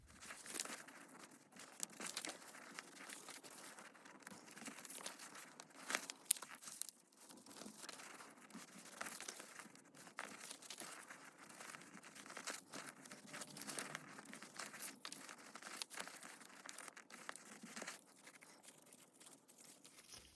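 Paper pages being folded into triangles for a one-page book, a continuous close, soft crinkling and rustling with small creases and crunches and no talking.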